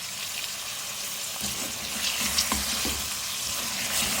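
Garlic ginger paste frying with chicken in a pan, a steady close sizzle and hiss that swells slightly partway, with occasional stirring clinks.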